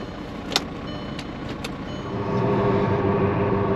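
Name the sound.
car engine running after jump start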